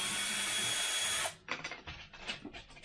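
A small power drill fitted with a 1.5 mm bit clears out aileron hinge ends, first one steady broadband whir, then several shorter, irregular bursts of drilling close by.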